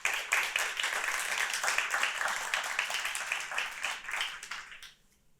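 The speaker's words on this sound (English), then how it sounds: "One great round of applause for all of you." An audience at the close of a conference claps together in a fairly soft, steady patter of many hands that runs several seconds before stopping abruptly.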